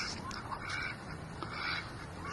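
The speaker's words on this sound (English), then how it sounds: "This is my pond. You can hear my ducks." Ducks on a home pond give faint, continuous quacking and chatter from a short distance, blended into a soft outdoor hiss with no clear voices.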